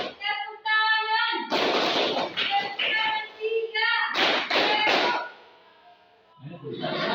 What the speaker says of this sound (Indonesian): Tepuk tangan 1, tepuk tangan 2, tepuk tangan